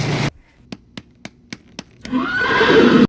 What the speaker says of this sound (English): Such a beautiful horse.